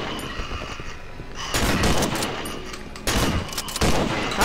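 Gunfire in the video game Cry of Fear: dense, continuous bursts of rapid shots under a loud, noisy ambience, intensifying in two surges near the listener.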